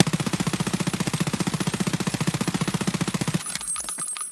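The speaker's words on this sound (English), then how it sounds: "Standing P90 recoil." P90 submachine gun fired on full auto from a standing position in the game BSG: a fast, even burst of about three seconds of rapid shots, loud and close, that cuts off abruptly.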